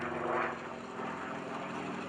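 An aerobatic airplane flies slow aileron rolls at the 2011 Greenwood Lake Airshow, its propeller engine a steady, moderately distant drone that swells and eases slightly as it rolls, with no talk.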